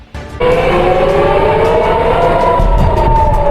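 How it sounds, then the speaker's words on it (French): A loud, sustained wailing air raid warning siren rises and holds steady with a low rumble underneath. No voices are heard. "Après les sirènes d'alerte, les explosions."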